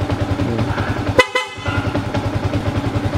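A dual loud horn on a Sniper 150 motorcycle gives one brief, loud, sharp blast close by, over a steady idling engine rumble.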